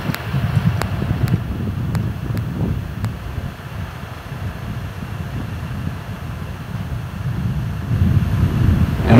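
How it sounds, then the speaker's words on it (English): A Proton rocket lifts off from Baikonur Cosmodrome in Kazakhstan carrying the Türksat 4B satellite, heard as a steady, distant low rumble and roar that fills the whole stretch and swells slightly louder toward the end. "And we have liftoff of an ILS Proton from the Baikonur Cosmodrome in Kazakhstan with the Türksat 4B satellite on board."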